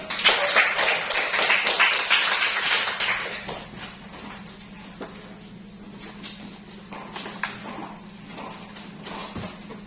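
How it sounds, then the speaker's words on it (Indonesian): Students in a classroom applaud a student group, a burst of many hands clapping that is loudest at the start and fades after a few seconds into scattered taps and room noise. "Tepuk tangan untuk kelompok 3 dulu."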